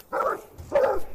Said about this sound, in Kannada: ಕೋಳಿ ಸಾರಿನ ವಾಸನೆ ನಾಯಿಗಳು ಬೊಗಳ್ತಾ ಇದಾವೆ